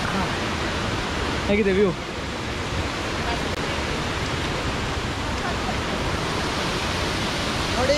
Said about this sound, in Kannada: ನೀರು ಮೇಲಿಂದ ಬೀಳ್ತಾ ಇದೆ, ಅದರ ಕೆಳಗಡೆ ಬೀಳ್ತಾ ಇದೆ